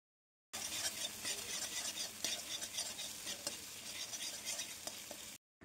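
Ginger garlic paste being stirred into onions frying in oil, a steady close sizzle with scraping utensil strokes running throughout, then cutting off abruptly.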